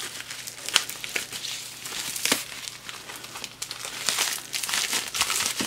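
Mailbag packaging being cut open and handled at close range: a steady run of crinkling and crackling plastic with scattered sharper rustles and tearing sounds, with no talk.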